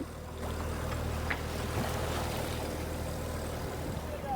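A sailboat's engine running after it has failed and been restarted, a steady low rumble at sea with wind and water noise around it, a brief knock partway through.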